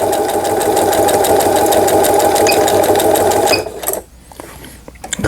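Sewing machine with an automatic thread cutter and reverse button running steadily and loudly for about three and a half seconds in an apartment setting, then stopping abruptly, leaving near silence with a few faint clicks.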